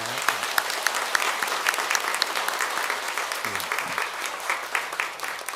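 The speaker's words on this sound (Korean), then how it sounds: "우리 박수로 환영하겠습니다" Steady applause from a church congregation during a Sunday service, dense clapping that holds at an even level throughout with no voices standing out.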